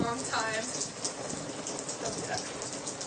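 Rain falls steadily outdoors in cold weather, a continuous close patter across the whole stretch, with a brief voice-like sound near the start.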